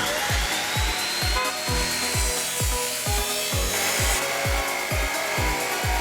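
A 2,300-watt cutting machine cuts in a regular series of sharp, loud strokes, each with a thump and a harsh ringing whine, repeating about twice a second.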